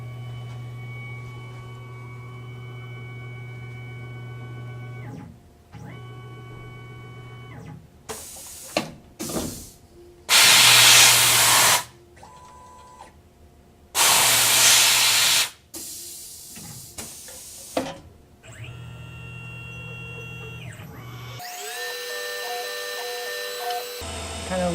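Tormach CNC mill cutting a part with coolant running, a steady layered machine whine with shifting tones, interrupted by several loud bursts of spraying hiss and a tool-change clatter near the end.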